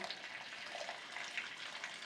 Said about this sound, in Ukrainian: Закипятила водичку, заливаю водичкою.